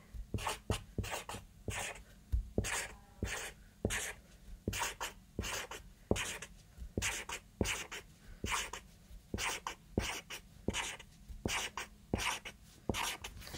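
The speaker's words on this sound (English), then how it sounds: "So under each day, I'm going to draw 3 apples." Pen scratching and tapping on paper while drawing apples, in short regular bursts of strokes repeating steadily throughout, close and fairly quiet with no talking.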